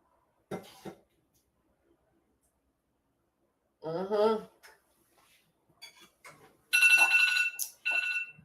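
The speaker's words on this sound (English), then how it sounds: "That's my alarm right there." A phone alarm rings in a kitchen with a bright, repeating electronic tone near the end, preceded by clinks of dishes, a cough and brief talk.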